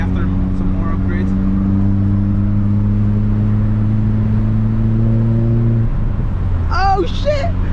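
A VW MK4 GTI 20th Anniversary Edition fitted with a Forge 008 diverter valve drives along with a loud, steady engine drone. The drone drops as the car comes off throttle, and a brief sharp whoosh follows near the end.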